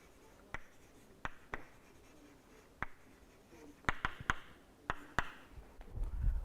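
Marker or chalk writing on a board during a mathematics lecture on matrix rank, a scattered series of sharp taps and short scratchy strokes, clustering more densely toward the end, close with no talk.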